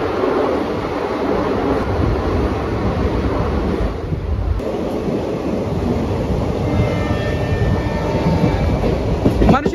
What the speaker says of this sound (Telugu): అదిగోండి అక్కడికి వెళ్తుంది ఇప్పుడు మన ట్రైన్